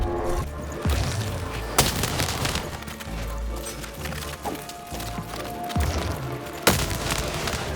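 Dice war cannon fire in the video game Lost in Random, sharp booming blasts at irregular intervals over game music and rumbling effects, the loudest hits landing near the start and again toward the end.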